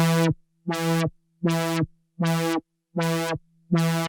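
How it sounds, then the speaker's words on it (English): An Arturia MiniFreak V synth tone pulses on and off in a steady rhythm, six bright buzzy bursts whose brightness swells and cuts as an LFO opens and closes the filter cutoff, with no talking. "so we have LFO 1 controlling the filter cutoff."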